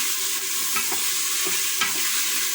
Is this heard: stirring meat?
yes